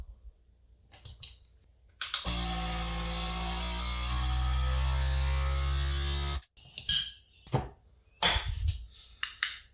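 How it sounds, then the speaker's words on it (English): A motor hums steadily for several seconds as a FoodSaver vacuum sealer with a jar attachment pumps air out of a mason jar, framed by clicks and clatter of handling before and after. "now I'll just use my FoodSaver vacuum sealing machine with the jar attachment"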